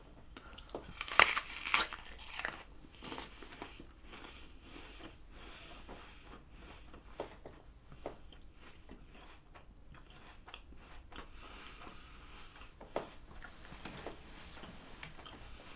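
Crisp bites into a Fuji apple, a couple of sharp crunches at the start followed by quiet, steady chewing and small crackling ticks, close and soft.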